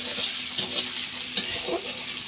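Cumin paste sautés in oil in a pan on a clay stove while it is being cooked into a fish dish with drumstick stalks. The sizzle is dense and continuous, with stirring scrapes and taps throughout.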